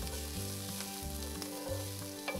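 Onion and roughly chopped garlic sauté in a pan with a loud, steady sizzle close up, alongside a low repeating tonal hum, and no one speaking.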